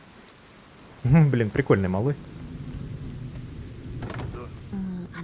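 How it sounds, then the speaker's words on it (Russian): Rain falls in A Plague Tale: Innocence, a steady soft patter and hiss running under the whole stretch while someone speaks briefly over it. "Дождик пошел, да?"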